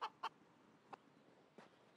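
A chicken in the CS:GO Danger Zone game mode clucks in short sharp bursts, two quick clucks then two fainter ones spaced apart, quiet against a low background hiss.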